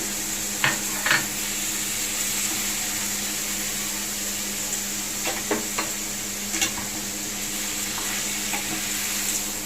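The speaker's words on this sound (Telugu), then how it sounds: "బాగా కలుపుకోవాలండి" A spoon stirs Andhra-style chicken curry with turmeric and salt in a hot pan, making steady sizzling and frying with a few sharp scraping clinks against the metal scattered throughout.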